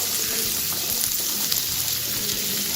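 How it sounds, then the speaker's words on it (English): Onions frying in the same pan used for meatballs give a steady, even sizzle with a watery hiss throughout, close and moderately loud, with no talking. "So in the same pan we will add onions."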